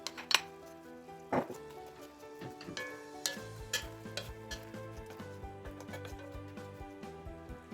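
Chopped onions go into a hot pot of braised meat and get stirred, a soft steady sizzle with repeated clinks and scrapes of a spoon against the metal pot, close and fairly quiet.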